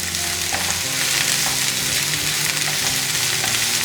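Ivy gourd frying with onions in a hot pan, a loud continuous sizzle with occasional stirring scrapes and a low hum underneath, close up and with no talking.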